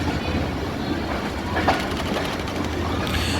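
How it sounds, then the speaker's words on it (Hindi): Allama Iqbal Express pulling out of Narowal Junction, heard from on board: a steady, loud rolling rumble with rhythmic wheel clatter and a brief metallic squeal, no voices. "निकल रहे हैं हम इस वक्त नारोवाल जंक्शन से, और जो है वो ट्रेन की आपको साउंड अब आप इंजॉय कीजिए।"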